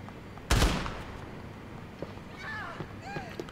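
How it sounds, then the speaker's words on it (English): A single loud gunshot bursts out near the start in GTA IV, then fades into a low background with a few faint later cracks and brief whistly sounds. "Where is this shooting coming from?"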